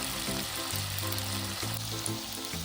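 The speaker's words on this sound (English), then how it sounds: "Once done, drop them back into the hot oil," Coated potato pieces fry steadily in hot oil over a medium flame, giving a continuous close sizzle and bubbling hiss that runs unbroken and alone.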